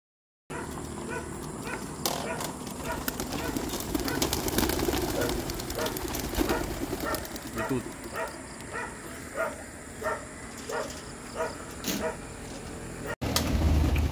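A flock of racing pigeons is released at a toss in Magdalena under light drizzle, with fluttering and cooing in the foreground, a dog barking intermittently and a sharp burst of noise at the very end.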